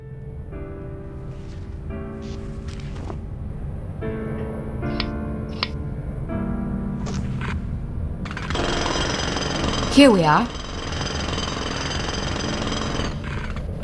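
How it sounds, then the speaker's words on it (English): Outside in the video game Memento Mori, a jackhammer rattles in repeated bursts of varying length, growing louder and denser toward the end, with a brief spoken line partway through. "With the jackhammer making so much noise outside, nobody will hear a few blows on the door."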